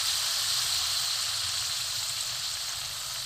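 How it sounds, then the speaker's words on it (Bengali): Rice-flour pitha fries in a little oil with a soft, steady sizzle and hiss, faint and continuous with no talking. "অল্প তেলে এই পিঠেটা ভাজা হয় বন্ধুরা"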